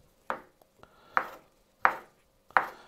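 Knife chopping vegetables into cubes for a salad on a cutting board, four sharp, evenly spaced chops close by with brief quiet gaps between them.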